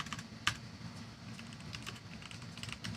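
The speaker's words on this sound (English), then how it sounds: "You hear those mechanical keys?" Quick, light keystrokes patter on a sensitive mechanical computer keyboard, close and fairly quiet, with one sharper clack near the start amid steady typing.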